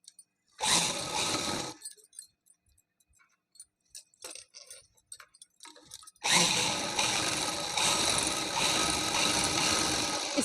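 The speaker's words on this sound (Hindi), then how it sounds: "इसके ऊपर से बीच में एक सिलाई लगा देंगे।" A sewing machine stitches the elastic waistband of palazzo pants in a brief run, then a longer steady burst, with soft handling clicks and rustles during the pause between.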